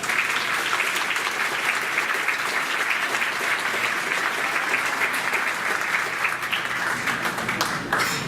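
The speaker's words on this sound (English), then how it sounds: "Let's give them all a big round of applause." Audience applause at a school board meeting honoring recipients, a continuous, even wash of many hands clapping together, moderately loud and sustained across the whole stretch.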